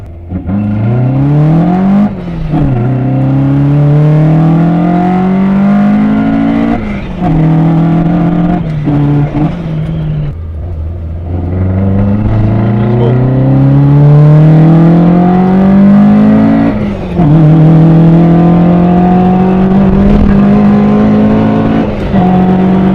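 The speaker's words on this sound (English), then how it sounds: "fully built 9AGE, the car sounds so mean." A loud Toyota AE86 with a fully built naturally aspirated 9AGE engine revs hard through several rising sweeps, dropping sharply at each gear change before climbing again, close and continuous.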